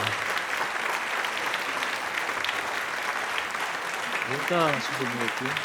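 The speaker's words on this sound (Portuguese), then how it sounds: "uma salva de palmas e reverência" An audience applauds steadily at a chef's cooking demonstration during a food trends event, with sustained dense clapping and voices rising near the end.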